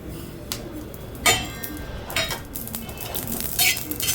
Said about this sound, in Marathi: मी लोखंडी तव्यावर मसाला भाजत आहे आणि आपल्याला खोबरं झाल्यावर लगेच त्याच्यात खसखस टाकून घ्यायची आहे